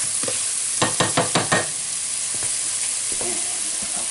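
Beef stroganoff sizzling loudly in a pan while being stirred, with a quick run of four or five scraping strokes early on, then a steady close hiss with a few softer scrapes.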